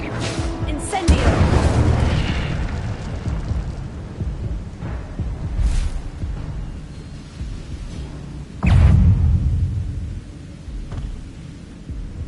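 An Incendio fire spell in Hogwarts Legacy lands as two loud, rumbling booms with a whooshing burst, one early and one late. Quieter rumbles fill the gap between them, and a voice shouts spell names over the action.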